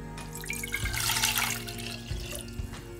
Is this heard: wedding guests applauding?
no